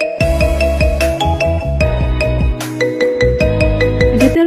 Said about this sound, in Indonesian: ada telepon, angkat dulu napa dah?